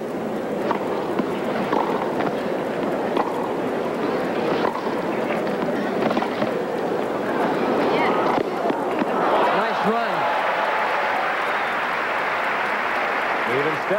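A crowd applauds at the 1996 US Open women's tennis match between Steffi Graf and Anna Kournikova, a dense, continuous clapping that holds steady the whole time.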